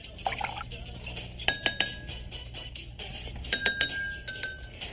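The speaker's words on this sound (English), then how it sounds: "Use a spoon to tap each glass and compare the pitches." Spoon taps on two drinking glasses holding water, in short bursts of three or four bright clinks separated by pauses, each strike ringing with a clear sustained pitch.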